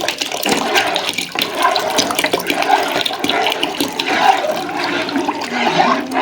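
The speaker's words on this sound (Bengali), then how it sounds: "আর একটু পানি অ্যাড করে দিব" A steady stream of water poured into a pot of Thai soup in a home kitchen, running and splashing without a break for several seconds, loud and close.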